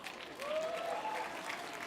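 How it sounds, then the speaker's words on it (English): Audience at a forum applauding, a soft, even patter of many hands at moderate distance, with a faint tone running through the middle. "Can we give them a round of applause?"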